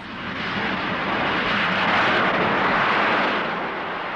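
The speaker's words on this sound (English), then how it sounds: "He opens the throttle to full power and the aircraft lifts off." Harrier jump jet at full throttle during vertical takeoff, a loud continuous broadband jet roar that swells and holds steady throughout, with no voices.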